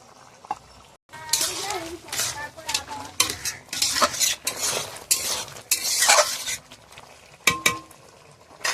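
Bitter gourd and potato stir-fried in a pan over a wood-fired stove, with a spatula scraping and clattering irregularly against the metal under a constant close sizzle and a voice heard faintly at times.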